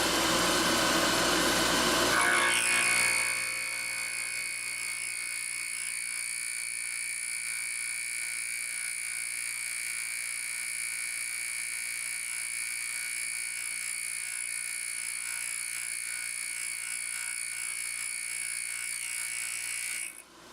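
A milling machine spinning at about 2800 RPM cutting heat-treated CrMo 4140 steel, with a burst of noisy cutting at the start, then a steady high-pitched tonal whine from the spindle that holds until the end.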